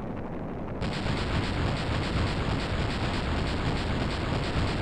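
A wrecking ball smashes through a blocked passage in the video game Dragon Quest 3, starting with a sudden loud crash that rolls into a sustained, dense rumbling roar lasting several seconds, with no voices.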